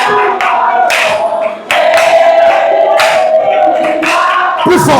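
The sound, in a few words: congregation cheering and acclaiming the Lord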